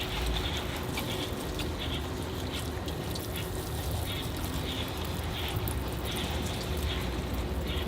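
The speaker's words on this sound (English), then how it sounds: "I'll rinse it off now" Rainwater splashing and pattering over a young bonsai tree and its soil during a rinse, a dense steady hiss of falling drops that continues evenly throughout at moderate loudness.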